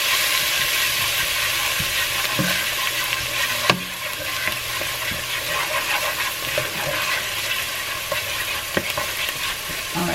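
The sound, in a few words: garlic and onion sauteing in a pan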